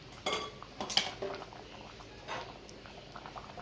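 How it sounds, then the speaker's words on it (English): Butter and Scotch bonnet peppers being stirred into rice in a pot for Jamaican rice and peas, a spoon scraping and clinking against the pot in a few quick bursts, fairly close and moderately quiet, with no talking. "So I'm just going to mix this around nicely."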